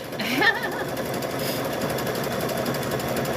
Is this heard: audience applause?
no